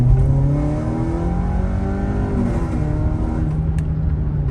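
An Audi Q5 2.0T with dual exhaust revs steadily with a deep exhaust drone, heard from inside the cabin, its pitch climbing and falling in smooth waves.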